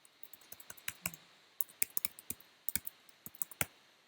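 Typing on a computer keyboard, quick bursts of crisp close key clicks in uneven runs with short pauses, quiet and alone.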